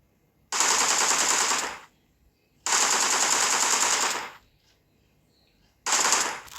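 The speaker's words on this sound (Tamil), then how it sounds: "சம்மந்தம் இல்லாமல் சும்மா போயிட்டு இருந்தவனை சுட்டுவிட்டேன்" Gunfire in the video game PUBG: three long automatic bursts at steady volume, separated by short silences, with the last burst cut off at the end.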